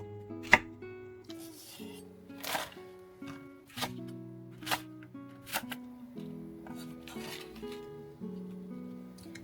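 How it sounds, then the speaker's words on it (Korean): A knife chops green onion, split in half and cut into large pieces, for kimchi jeyuk bokkeum: sharp, sparse cuts land every second or so over steady background music. "제육볶음에 들어갈 채소 썰어 줄게요."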